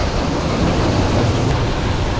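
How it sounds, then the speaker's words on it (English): Loud, steady wind roars and buffets the microphone outdoors on a farm on a rainy, 50-degree day, a continuous broadband rush with no voices; rain is not distinguishable beneath it. "Rainy, getting the concrete wet, windy, 50 degrees"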